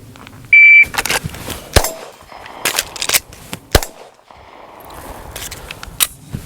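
Pistol shots in a timed shooting drill with a reload, starting with a sharp electronic timer beep, then several loud, close cracks in quick bursts with short gaps between them.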